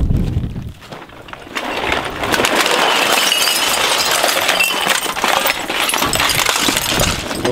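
Glass beer bottles clink and shatter outdoors on a desert trip, a loud, continuous rattling crash of breaking glass that runs for several seconds after a brief quieter start.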